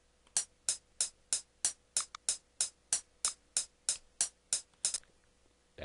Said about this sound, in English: when drummers play, they slap the sticks together.